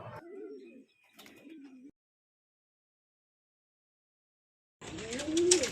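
Trained racing pigeons coo in soft, low, rolling calls, close by: one burst at the start, a shorter one after a second, then silence, then a louder cooing phrase near the end.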